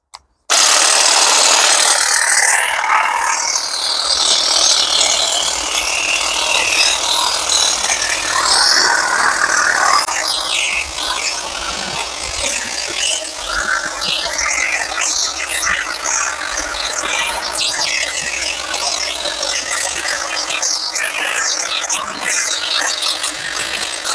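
A NETTA 20V cordless pole hedge trimmer shears through tangled blackberry vines outdoors, giving a loud, continuous buzzing drone whose pitch wavers as the blades bite into the growth.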